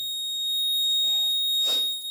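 A smart helmet's accident alarm, part of a GSM SMS alert board, sounds as a sustained electronic tone with a steady buzz, followed by a short burst of noise near the end.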